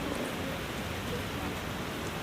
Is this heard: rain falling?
yes